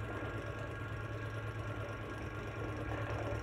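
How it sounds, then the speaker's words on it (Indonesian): A DC motor in a lab test runs at 500 rpm on a 50-volt supply, giving a faint, steady mechanical hum and whir that holds without change throughout. "Pengujian kedua yaitu motor DC dijalankan pada kecepatan 500 rpm."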